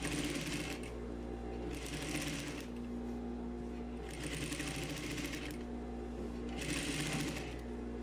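A sewing machine stitches the front piece seam of a tailored vest in three separate bursts of rapid running, with short quiet pauses between them, close and alone.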